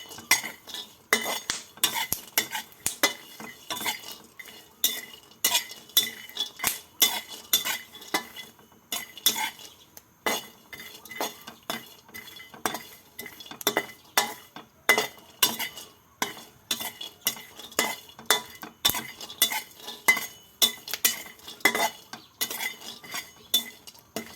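Wild fruit dry-roasts in a pan and is stirred without a break, making a busy rattle of clinks and scraping knocks at a fast uneven rhythm, close and fairly loud, with no voices.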